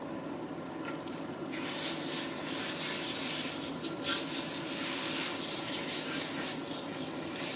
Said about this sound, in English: Alright, so I'm going to rinse this out.